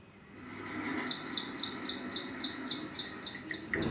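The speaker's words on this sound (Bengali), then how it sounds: "পাখিদের এমন মিষ্টি কণ্ঠ" Small birds singing sweetly in a repeated series of bright chirps and tweets, fairly close, rising over a steady hiss of outdoor background and continuing through the whole stretch with no talk.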